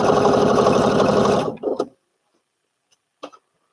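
Sewing machine fitted with a ballpoint needle running through stretchy fabric, a loud close rapid mechanical rattle that cuts off after about a second and a half, followed by a few brief clicks and knocks.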